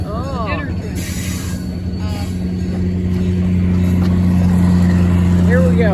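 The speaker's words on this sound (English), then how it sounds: "Here comes the train. Right below us. Tourist train." A tourist dinner train passes right below a downtown Duluth, Minnesota vantage point, its engine rumbling low and steady and growing louder, with wheel squeals and horn-like tones overhead and people talking nearby.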